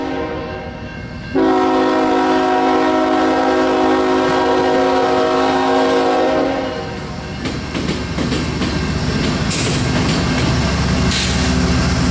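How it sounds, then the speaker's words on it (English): A freight train, an extra section of train 22G, approaches the 32nd Street diamond, sounding a loud sustained horn over the rumble and clatter of the rails, with no talk. "train I-2G, an extra section of 22G, approaches 32nd Street"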